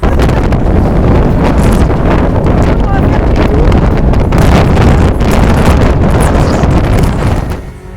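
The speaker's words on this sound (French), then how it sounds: "Des bourrasques de vent d'une violence extrême au sommet nous ont forcés à rebrousser chemin" Violent wind gusts at the summit of La Soufrière volcano roar over the microphone in a loud, constant buffeting rush that barely lets up before easing at the very end.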